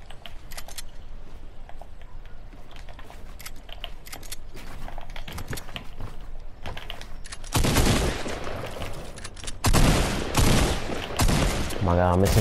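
Fortnite gunfire comes in loud bursts of rapid shots late in the sequence, after a stretch of quieter clicks and game sounds, with a person talking.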